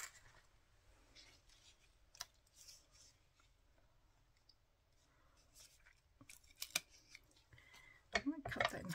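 Scissors cut a piece of card in half, a few soft snips and rustles close up, with louder paper handling and crinkling near the end.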